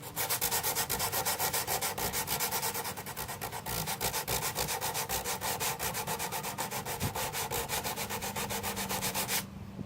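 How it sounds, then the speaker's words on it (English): 60 grit sandpaper rubs fast, even strokes over the old wooden finish of a Sparton 69 radio cabinet, a loud close rhythmic rasp that continues steadily with no talk. "I'm just using 60 grit sandpaper here."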